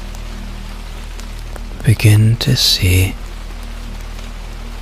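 Steady rain falling on the streets of Edinburgh, Scotland, a constant soft hiss throughout, with a calm voice speaking briefly over it in the middle.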